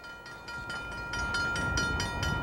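A freight train rolls westward through town, its wheels clacking in a steady repeating rhythm at moderate distance, with a constant tonal hum running beneath and no voices.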